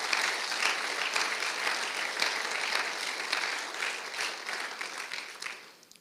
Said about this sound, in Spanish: Dale ese aplauso fuerte a Jesús.